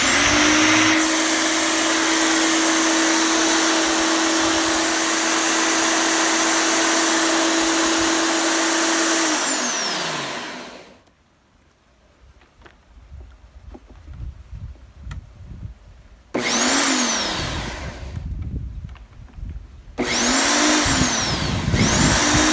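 A lawn mower engine that had seized runs with a loud steady roar for about ten seconds, cuts out to near silence, then restarts in two more bursts, close and alone without speech.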